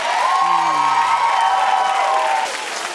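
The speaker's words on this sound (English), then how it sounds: "Keep clapping for that man" A television studio audience claps and cheers in a dense, steady wash of applause with a whoop rising over it, loud and sustained before easing slightly near the end.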